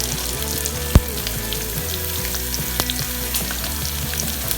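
Onions sauté in hot oil with a steady, close crackling sizzle, dotted with small pops and one sharp clink of a utensil against the pan, while curry leaves fry alongside.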